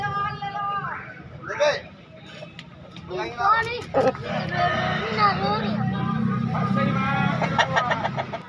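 Bangkok fighting-breed roosters at a market on Jalan Bayangkara in Makassar, several crows and clucks of varying loudness rising over a busy background of people talking and traffic.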